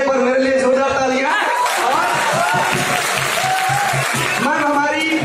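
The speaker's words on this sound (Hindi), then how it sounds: "उस बंधन में एक बार मेरे लिए जोरदार तालियां" A crowd at a university arts faculty event claps loudly while a voice carries on over it, the applause a broad, continuous roar beneath the voice and crowd noise.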